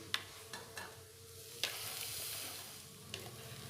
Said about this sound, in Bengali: খুব ভালোভাবে এগুলো নেড়ে নেব।